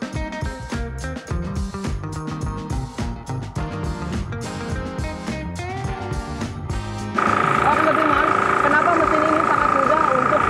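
An FTL720D cultivator with a 9 HP engine ploughs dry land overgrown with tall weeds, running as a loud, steady mechanical drone with churning knocks, then settling into a more even, high-pitched engine whine.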